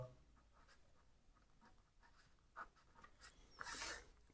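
A pen scratches across paper while a maths solution is written out by hand, quiet and close, in a few short strokes that grow busier toward the end.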